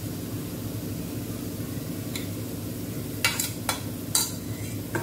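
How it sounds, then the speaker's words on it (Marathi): Cooked rice being stirred into palak (spinach) rice in a pan, a soft steady hiss broken by a handful of brief scraping strokes of a utensil against the pan late in the moment. "मिक्स करून घेऊया आपण।"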